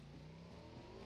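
Motorcycle engine in a video game, a brief steady drone with a low rising pitch, heard alone.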